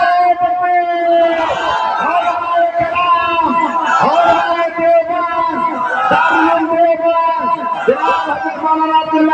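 Crowd chanting Allahu Akbar in response to a takbir call at a religious gathering: many voices shouting together in loud, rhythmic waves, repeating in unison with harmonic vocal tones.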